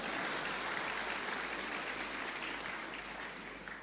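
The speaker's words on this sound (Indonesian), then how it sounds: "tepuk tangan, betul tepuk tangan." A church congregation claps in steady, dense applause that fills the clip, fairly even and slowly tapering off.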